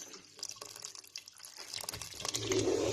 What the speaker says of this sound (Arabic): نعمرها مليح، نعمرها شوف حتى الحبات يغرقوا في الماء.